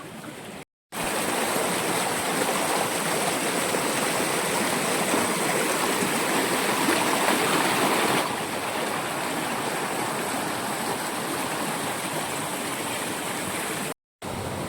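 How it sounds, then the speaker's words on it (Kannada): A shallow stream tumbling over a small waterfall on a forest trekking trail gives a steady, close, full rushing roar that runs unbroken apart from two brief dropouts. "ಇಲ್ಲೊಂದು ಚಿಕ್ಕ ಫಾಲ್ಸ್ ಇದೆ"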